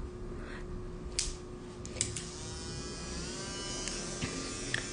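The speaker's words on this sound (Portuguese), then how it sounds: "Eu vou usar, ó, essa broquinha, que eu vou usar depois no final pra dar acabamento" An electric nail drill with a fine finishing bit files gel nails, giving a quiet, steady high whine with a few faint ticks and taps from handling and no voices.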